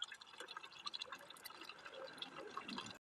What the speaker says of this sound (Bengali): এখানে জল চলে এসেছে, একদম আস্তে আস্তে জল পড়ছে।